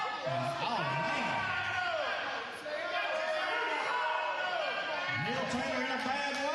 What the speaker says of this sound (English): I hear so many people cheer on Barry here.